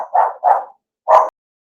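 A blind dog barks indoors in a room: three short, sharp, fairly close barks, two in quick succession and then a third after a brief pause, with no talking.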